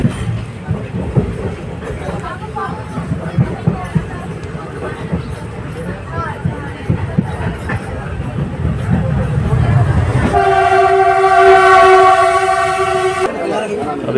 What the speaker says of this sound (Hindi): यहाँ से हम ट्रेन से नीचे उतर रहे हैं।